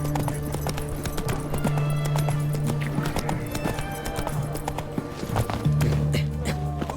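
Hooves of the horse Roach clip-clop steadily at a walk in The Witcher, a close rhythmic clatter over low game ambience and faint background voices.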